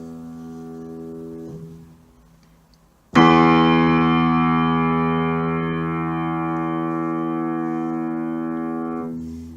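A low piano note on a repaired bass string fades out, then a faulty neighboring bass string is struck loudly and rings on with a bright, buzzy shimmer of overtones that lingers.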